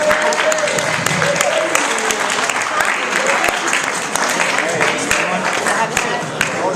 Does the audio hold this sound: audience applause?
yes